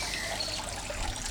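Water trickles steadily over the rim of a tank fed by a pipe, a soft, continuous close-up dribble heard on its own.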